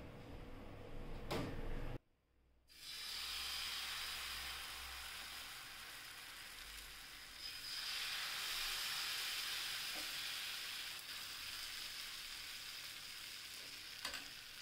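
Jowar dosa batter spread on a hot oiled pan sizzles and fries in a loud, continuous hiss, with a brief clatter and pause near the start before the steady frying resumes, close by.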